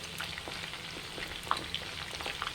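Chicken 65 deep frying in hot oil, a steady close crackling sizzle with scattered sharper pops throughout.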